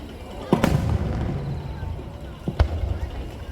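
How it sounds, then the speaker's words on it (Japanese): Chrysanthemum (kiku) firework shells burst over a Nagashima Onsen display: two distant booms a couple of seconds apart, with a faint crowd murmur underneath. "さあ、ここからは打ち上げ花火をご覧いただきますよ。 いろいろな色や形楽しんでください。 まずはおなじみの菊です"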